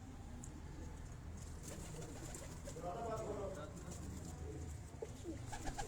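Soft, low cooing of very old pigeons on a rooftop repeats through a steady murmur of background noise, with faint voices and movement nearby.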